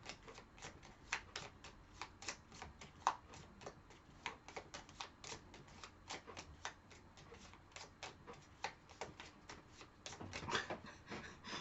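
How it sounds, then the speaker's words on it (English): Tarot cards are shuffled by hand in a quiet room, a faint run of soft, quick riffling clicks and taps with irregular rhythm, a little busier toward the end, with no talking. "I'm shuffling the last 5 cards."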